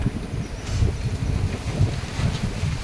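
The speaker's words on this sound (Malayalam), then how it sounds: "ഭയങ്കര കാറ്റ്" Strong wind buffeting the microphone in low, rumbling gusts that rise and fall steadily throughout, with no voices.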